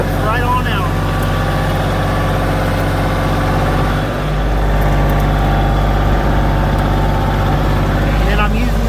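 A Kioti CK2610 compact tractor engine drones steadily and loudly while its bucket pushes sagebrush along the ground. A brief dip in the rumble occurs midway before the engine settles back to a constant, close roar.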